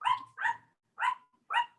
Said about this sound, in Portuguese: Nossos cachorros estão desesperados hoje.